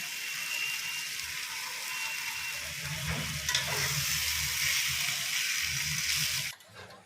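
Chicken sizzles in a large pan for a birthday biryani, a steady frying hiss with faint stirring and scraping that holds close and even, then cuts off abruptly near the end.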